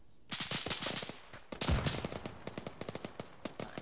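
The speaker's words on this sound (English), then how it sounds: "Like we're getting shot at" Rapid gunfire crackles in an Arma military game: bursts of automatic shots, some distant and some closer, with one heavier blast near the middle and a run of evenly spaced shots toward the end.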